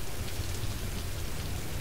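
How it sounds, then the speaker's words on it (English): Steady, dense rushing of falling water from a waterfall in Rise of the Tomb Raider, continuous and even with no other sounds. "Is it raining? No, it's waterfall."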